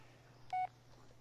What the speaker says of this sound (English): Let's call Jess and see what she's doing